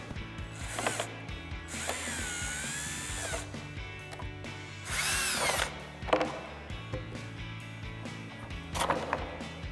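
A T15 socket tool on a 2015-2023 Mustang rocker splitter tail piece makes repeated ratcheting clicks and whirring bursts, several close, sharp spells of ratchet and spinning separated by brief pauses, with no talking.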